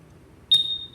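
Honda PCX 160 keyless alarm answer-back: one short, bright electronic beep over a quiet background, clear and close.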